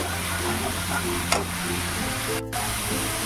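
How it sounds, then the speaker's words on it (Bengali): Spice paste stirred and frying in a pan while cooking katla fish in yogurt, a steady loud sizzle with brief scraping clinks from the stirring utensil. "মশলার পেস্টটা দিয়ে কয়েক সেকেন্ড একটু নাড়াচাড়া করে নেব।"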